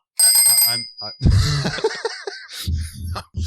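A bell rings briefly with a bright ringing tone at the start, then fades as nearby voices laugh, cough and talk over it.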